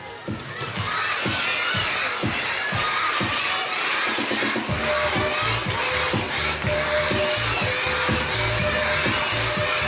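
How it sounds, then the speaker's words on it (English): A crowd of schoolgirls at a Teacher's Day celebration shouts and cheers loudly for their teachers, with continuous high-pitched yelling and rhythmic clapping that grows more regular partway through. "Girls, please don't shout, just clap your hands."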